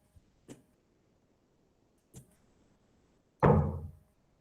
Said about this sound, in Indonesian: kedengeran kan ya ada lagi suara ketok-ketok. Saya izin karena emang lagi renov.